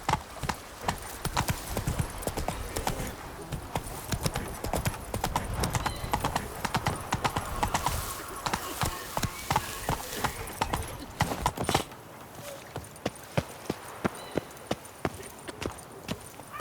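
Roach, the horse in The Witcher 3, gallops with rapid rhythmic hoofbeats that run loud for about twelve seconds, then lighten to sparser, quieter clops.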